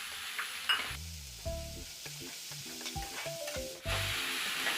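Green chillies with a pinch of salt fry in a pan for masala idli, giving a quiet sizzle with clinks and scrapes from stirring and a louder burst of sizzle near the end.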